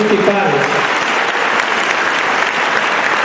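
Loud, steady applause from an audience clapping for priests and parish clergy at an Italian pilgrimage gathering, a dense continuous patter that fills the whole stretch without pause.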